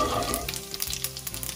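Cumin seeds hit a little hot oil for a lamb mince curry, making a brief, bright crackle of sputtering sizzle up close.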